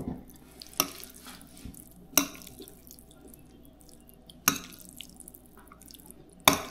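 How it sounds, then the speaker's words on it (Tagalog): A spoon scrapes and clinks against a cooking pot while sauce is stirred, four sharp knocks spaced a couple of seconds apart over soft wet stirring and a faint background hum. "Haluin natin. Para magkaroon ng sauce yung iba."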